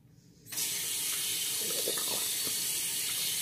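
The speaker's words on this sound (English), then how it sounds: "Rinse off the hands." Water from a tap starts abruptly and runs steadily into a sink while hands are rinsed beneath it, a close, even rushing with faint splashes and shifts in the flow, no voices.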